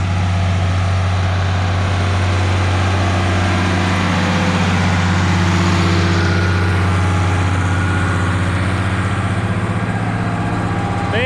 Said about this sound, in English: It's going to be pretty loud up here by the tractor.